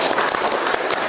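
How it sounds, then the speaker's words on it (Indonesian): Students in a classroom lesson break into a short burst of dense, steady clapping that fills the room at close range. "Berikan tepuk tangan."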